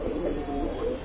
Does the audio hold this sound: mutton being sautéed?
no